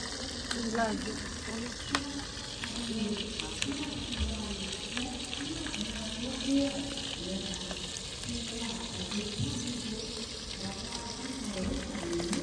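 Food frying in a pan in a rural home kitchen in Ubon Ratchathani, Thailand, a steady sizzle and crackle running throughout at moderate level, with scattered stirring clatter and people talking in the background.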